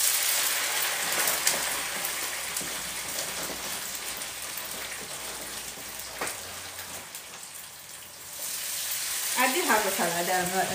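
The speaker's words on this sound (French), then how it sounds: "Maintenant, on va venir faire cuire nos frites." French fries frying in hot oil for an African-style grilled meat meal: a dense, loud, continuous sizzle and crackle, close by, with a voice briefly heard near the end.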